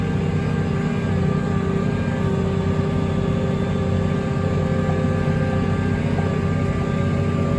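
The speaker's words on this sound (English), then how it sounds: "Here the tractor labouring away." A tractor engine labours steadily up a steep hill, a constant heavy drone with a strained, even tone and no voices.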